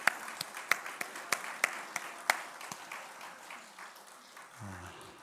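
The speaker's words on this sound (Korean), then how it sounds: "우리 한번 위대하신 어머님들에게 큰 감사의 박수 한번" A church congregation gives scattered applause for mothers during a Sunday service. The sharp, uneven claps are moderately close and fade out over a few seconds before a voice briefly speaks.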